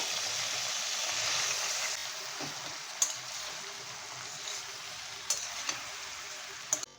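Cut pieces of chana dal khaman dhokla are gently stirred and fried in a pan, giving a steady soft sizzle with a few sharp clinks of a spoon against the metal.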